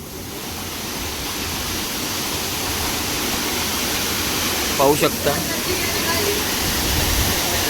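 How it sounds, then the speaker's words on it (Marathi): Chander waterfall in Malvan, Konkan, roars as a steady, loud broadband rush of falling water, with people talking briefly over it near the middle. "चांदेर वॉटरफॉल"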